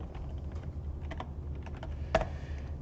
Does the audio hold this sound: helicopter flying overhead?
no